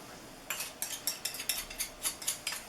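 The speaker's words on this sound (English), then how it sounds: "Just use a fork to cut it in." A fork cutting butter into biscuit dough in a bowl, about ten quick scraping clinks of metal against the bowl in an uneven rhythm, close and fairly quiet.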